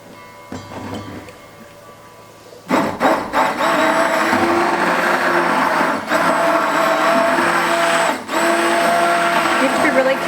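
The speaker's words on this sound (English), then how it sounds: "I'm gonna go ahead and use my Immersion blender to start pureeing this." An immersion blender purees winter squash soup made with bone broth, starting with quiet handling noises and then kicking in loud, whirring and continuous with a couple of brief dips, while a person talks over it.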